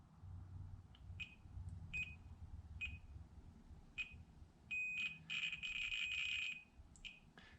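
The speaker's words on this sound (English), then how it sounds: "The beeping, that's logic data being pushed out through the transmit." Bursts of high-pitched electronic beeping from serial logic data on an embedded device's transmit pin come in irregular waves, short chirps followed by a longer dense stretch, over a low background hum.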